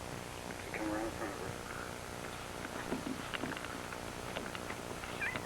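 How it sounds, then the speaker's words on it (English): Cats purring in the background of a room where a dog is being handled, a faint steady purr under quiet voices talking. "All these cats in the background."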